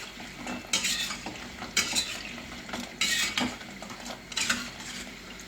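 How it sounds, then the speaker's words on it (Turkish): Lokma dough balls frying in hot oil while being stirred, a continuous sizzle broken by about five rhythmic metallic scrapes of a utensil against the pan. "İkinci sefer pişenlerimizle yine karıştırıyoruz"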